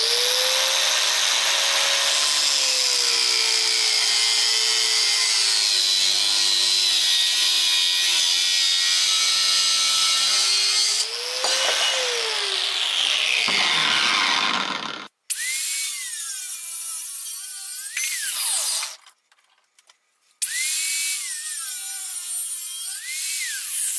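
Table saw cutting a 4-foot length of miter gauge material into 1-foot strips for a tapered-leg jig: a loud sustained whine with a dip in pitch, then a pause and a second cut, close and alone.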